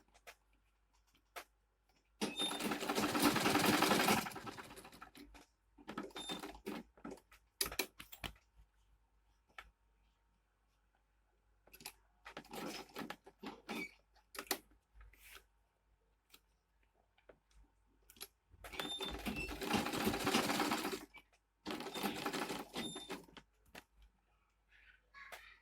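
A sewing machine stitches a seam on a small mini bag, running in several quiet bursts of rapid mechanical clatter, each lasting a few seconds, separated by near-silent pauses.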